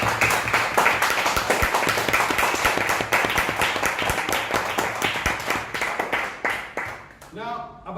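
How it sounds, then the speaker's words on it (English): An audience at a talk event applauds, dense clapping from many hands that holds steady and then thins into a few scattered claps, with a brief voice at the end. "Let's have a round of applause for Ridhima."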